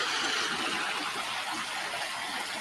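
Creek water rushing in a steady, broadband wash while someone wades across, continuous and fairly close with no pauses and no talking.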